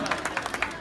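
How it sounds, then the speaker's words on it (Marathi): An audience at a dance competition prize ceremony claps, giving a short burst of rapid, scattered applause that sounds fairly distant and soft. "राजू मेढे आणि टाळ्या वाजवायच्या सर्वांनी"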